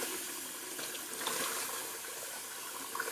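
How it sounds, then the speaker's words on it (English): Tap water runs into a shaving bowl as it is rinsed, a steady soft hiss of flowing and splashing water with no talking. "I'll rinse out my bowl in the meantime"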